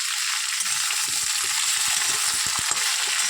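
Potatoes tossed into a pan with bitter gourd sizzle loudly and steadily in hot oil, close up, with soft scraping and stirring knocks underneath.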